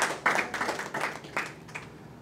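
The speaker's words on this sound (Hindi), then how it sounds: "जोरदार तालियों से आप अभिनंदन करें" An audience at a Hindi poets' gathering applauds the poets, a short burst of fairly quiet, scattered hand clapping that peaks early and tapers off.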